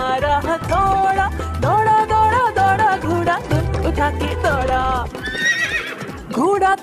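Neighing and galloping horse sounds in a Hindi children's nursery rhyme about a wooden horse: a rhythmic clip-clop of hooves runs under sung melodic lines, with a loud whinny rising near the end, all close and bright.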